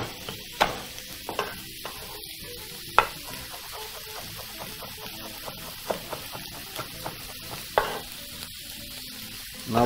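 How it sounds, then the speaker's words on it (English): Pork cooking down in its own rendered fat in a pan, a steady close sizzle with frequent clicks and scrapes of stirring and a few sharper knocks, no talking. "So very important to actually allow the pork to cook down in its own fat."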